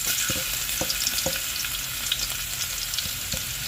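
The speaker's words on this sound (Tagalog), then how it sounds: "Magigisa na po tayo." Garlic sautés in a hot pan for tilapia, giving a steady close sizzle and frying hiss broken by a few sharp clicks and stirring knocks.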